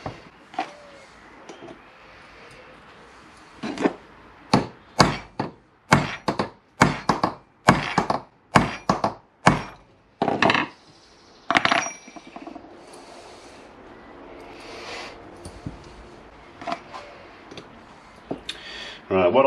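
Hammer strikes peening a washer over on a Moto-CNC Vario adjustable foot peg kit for a Yamaha R1 4XV, a quick run of sharp metallic taps in bursts, then sparser hits with faint background noise.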